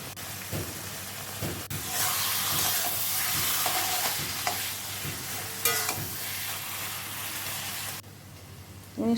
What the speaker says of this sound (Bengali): কচু শাকটা অনেকক্ষণ ধরেই ভাজতে হবে